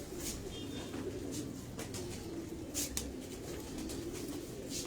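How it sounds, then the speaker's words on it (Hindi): Sindhi pigeons on a rooftop give soft, repeated low cooing, fairly faint, with a few scattered chirps over steady outdoor background noise. "सिंधी कबूतरों का शौक करवा रहे हैं इस वक्त हम आपको"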